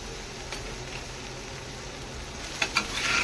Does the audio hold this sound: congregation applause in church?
no